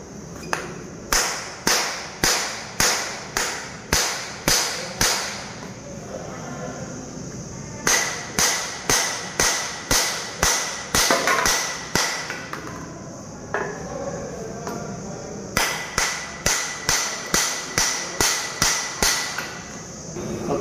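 A seized air-conditioner compressor is struck with a hammer to free it, giving three bursts of rapid, ringing metallic blows, each a quick run of about a dozen sharp hits, loud and close with pauses between sets.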